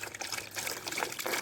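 Water streams steadily from a garden hose into a small pond for a dog named Tokyo, a soft continuous splashing trickle close by with slight surges, and no talk.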